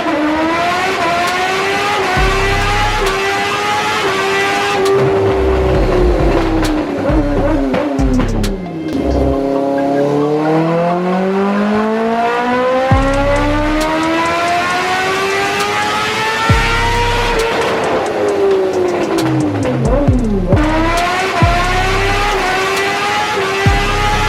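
A motorcycle fitted with a DB killer silencer revs hard and accelerates up through its gears, the engine note climbing and dropping with each shift, loud and close throughout.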